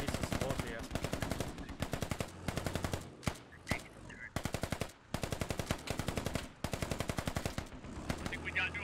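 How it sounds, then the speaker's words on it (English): Automatic gunfire in the military shooter game Squad: long, loud rapid-fire bursts of machine-gun shots, broken by brief pauses and a few single heavier reports. "Creeping and Krusty are actually firing"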